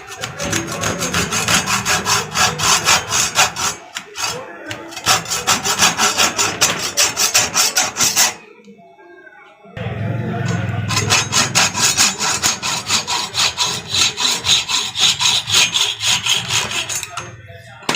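A hand saw cuts back and forth through a sewing machine bushing in rapid, rhythmic rasping strokes, loud and close, pausing briefly twice before the sawing resumes, with no talking.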